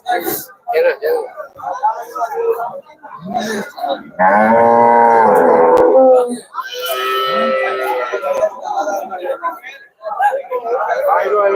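Cattle at the Melapalayam cattle market giving long, loud moos close by, one after another, between stretches of talk from people nearby.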